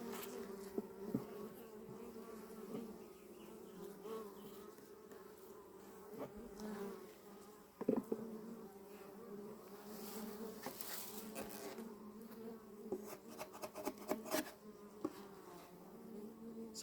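Honey bees buzz steadily around an open hive during a three-week inspection, a continuous low drone with individual bees passing close and louder at moments.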